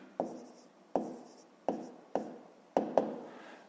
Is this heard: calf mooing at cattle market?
no